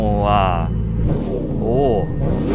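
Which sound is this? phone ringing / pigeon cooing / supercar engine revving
supercar engine revving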